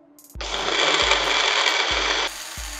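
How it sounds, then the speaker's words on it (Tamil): A mixer grinder blends a fruit milkshake flavoured with cardamom powder, a loud, steady whirring roar that starts abruptly, runs for about two seconds and then drops in pitch as it winds down. "இப்போ இதையும் வந்து நல்லா அரைச்சிடலாம்."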